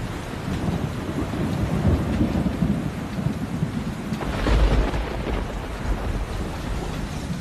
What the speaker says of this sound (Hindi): चेन्नई में आफत की बारिश शुरू हो चुकी है